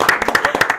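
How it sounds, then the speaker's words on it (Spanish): A church audience gives a brief burst of applause for a guest, with sharp, rhythmic hand claps close by, evenly spaced and loud, lasting under a second. "Un aplauso para Audris."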